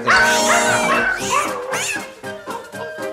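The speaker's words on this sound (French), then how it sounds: "Mais Milou reprend l'attaque et maintenant il s'égare malencontreusement dans les jambes de Nestor qui lui écrase le bout d'une patte." A dog in a radio drama yelps sharply after its paw is stepped on, a series of loud high whining cries and whimpers with wavering pitch that trail off into shorter yips over about three seconds.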